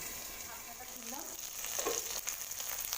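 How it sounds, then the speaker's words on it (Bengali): Soft sizzling of okra frying in a pan, a steady crackle that grows slightly louder, with faint murmuring in the background. "ঢ্যাঁড়সগুলোকে একটু ভাজা ভাজা করবো আমি"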